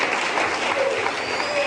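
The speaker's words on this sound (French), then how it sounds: "Est-ce qu'on peut acclamer ça?" A church congregation claps in dense, sustained applause, a continuous wash of many hands filling the room.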